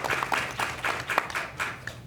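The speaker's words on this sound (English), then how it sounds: "Can we give them a round of applause before we do that?" Scattered clapping from a small audience at a school board meeting, brief and moderately close, with individual claps standing out in an uneven rhythm.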